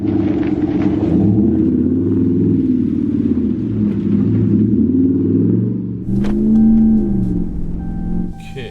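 A 2019 Ram Rebel pickup truck climbing a snow-covered off-road hill, a loud steady engine rumble with gentle revving, close and continuous, rising briefly partway through.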